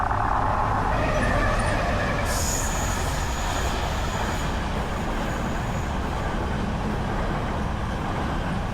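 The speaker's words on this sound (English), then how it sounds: "there were 2 trains as I arrived at the crossing" Trains passing a railway crossing near the Oxford Canal at Boddington: a steady, loud rumble of rolling wagons throughout, with a high metallic wheel squeal rising partway through and ringing on.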